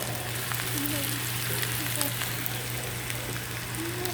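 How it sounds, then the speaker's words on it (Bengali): Onions frying in a pan give off a steady, even sizzle that holds for the whole stretch over a faint low hum, with no sharp pops. "এখন পেঁয়াজগুলো ভেজে নেব"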